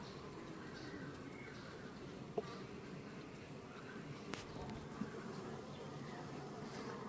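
Honeybees drone continuously at an open hive while the beekeeper searches the frames for the old queen to replace her, a close, even buzzing with a few faint clicks and taps.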